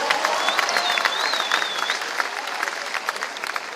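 A Hindi-speaking audience at an event with Chief Minister Mohan Yadav gives a singer loud, dense, close applause that tapers slightly, while a faint voice rises briefly above it.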